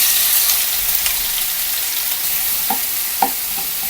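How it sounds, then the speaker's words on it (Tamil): Chopped onion, garlic and green chilli fry together in oil for a greens dish, giving a loud, continuous close hiss with a few faint clinks of stirring. "நம்ம அந்த வெட்டி வச்சுருக்கிற வெங்காயம், அந்த பூண்டு, பச்சை மிளகாய் இது எல்லாத்தையும் ஒன்றா சேர்த்துருக்குறேன்"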